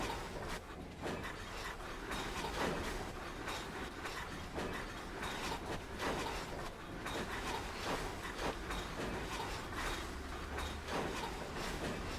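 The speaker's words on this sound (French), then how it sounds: "Regardez, les wagons sont en train de secouer." Freight wagons rattle and clank continuously in the Train Sim World 2 railway simulator, a dense, steady clickety-clack of couplings and wheels that stays loud throughout with no talk.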